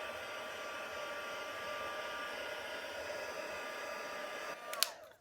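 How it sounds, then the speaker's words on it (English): An electric heat tool blows a steady, rushing hiss of hot air while heat-setting embossing powder on a handmade card, then clicks off and winds down abruptly at the end. "let's come in with our heat tool and we're going to heat set this."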